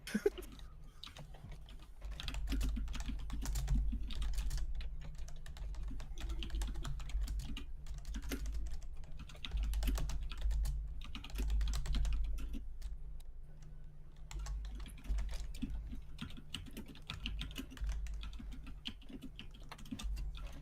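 Rapid typing on a computer keyboard, dense irregular bursts of close, crisp key clicks running almost continuously over a low steady background hum, with brief pauses between runs.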